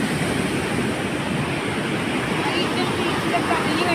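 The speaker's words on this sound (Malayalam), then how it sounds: "സുഹൃത്തുക്കളെ, കടലിങ്ങനെ ആഞ്ഞടിച്ചോണ്ടിരിക്കുകയാണ്." Rough sea surging onto a black-sand beach makes a steady, loud roar of crashing surf with no break and no voices.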